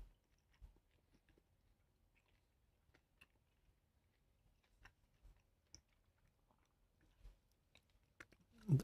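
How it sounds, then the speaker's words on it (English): Someone chews crunchy pizza close to the mic, with soft, irregular bites and crunches scattered across a quiet background and one louder crunch at the end. "this is good pizza. The only problem is it's a bit crunchy."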